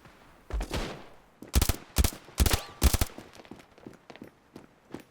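Gunfire in the mobile shooter Standoff 2: several loud, sharp shots, some in quick bursts, spaced over a few seconds, with faint footsteps between them.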